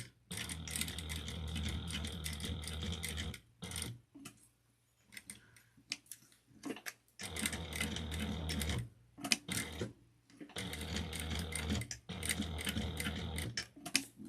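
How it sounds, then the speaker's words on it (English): A sewing machine stitches across a bulky fabric wristlet in three bursts of rapid, close mechanical ticking, separated by quiet pauses with faint handling sounds. "and then I'm just going to sew across here"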